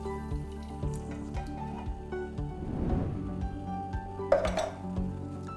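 Canned peeled, chopped tomatoes are poured into a frying pan of hot oil flavoured with parsley and garlic, making a brief burst of sizzling mid-clip amid soft clinks of cookware.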